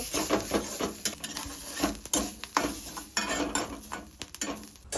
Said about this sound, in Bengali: নারকেলটা একটু লাল লাল করে ভেজে নেব